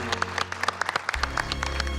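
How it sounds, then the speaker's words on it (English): A television cooking-competition audience claps for a special guest, with scattered distinct claps building into steady applause over a low background hum. "Please give a big round of applause to our very special guest, Colonel Hadfield."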